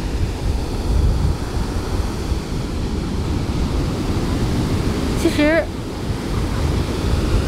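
Sea waves and wind on the beach at Gangneung, South Korea: a steady, close broadband roar of surf with wind buffeting the microphone, and a brief voice partway through.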